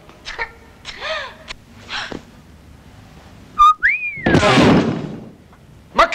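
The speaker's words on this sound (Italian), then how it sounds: "Ma chi ti ha dato il permesso da fischiare?" A person whistles several short, sliding notes, including one long rising-then-falling whistle, interspersed with thumps, a breathy burst and other brief household noises.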